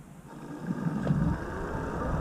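ANIIOKI AQ177 electric bike pulling away from a dead stop at full throttle, a steady motor whine and road rumble rising slightly as it gathers speed.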